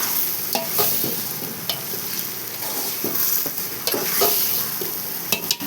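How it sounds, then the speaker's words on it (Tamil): Vegetables for a vegetable biryani are stirred and sautéed in a pan until golden, a continuous sizzle punctuated by repeated scraping knocks of the spoon against the pan, close and moderately loud. "பொன்னிறமாக வதக்கணும்."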